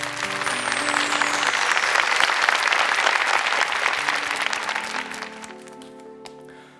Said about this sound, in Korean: 여러분, 이 세상의 어버이들을 위해서 크게 박수 한 번만 보내주시겠어요?